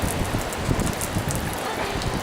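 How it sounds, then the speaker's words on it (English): Pouring rain falls in Gairloch, Scotland, outside a hotel as a dense, steady hiss with no speech over it. "and it's pouring rain"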